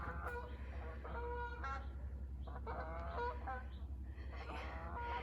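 A flock of geese honks repeatedly as it flies over a Scottish loch near Inchmahome Island, a noisy, overlapping chorus of calls in bursts over a steady low rumble, with no one talking.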